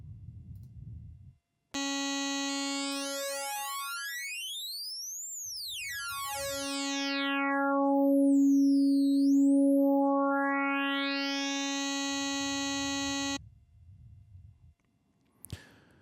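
A bright synthesizer oscillator wave holds steady while its formant shifts up and down, giving a smooth vowel-like filtering sweep, framed by brief noisy bursts before and after.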